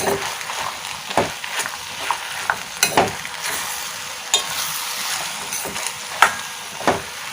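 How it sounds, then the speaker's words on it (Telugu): A spoon stirs a curry of brinjal, peas and meal maker in a pan. Close, irregular scrapes and clanks sound over a soft sizzle, with no one talking. "మనం కర్రీ అంతా కలబెట్టుకుందాం"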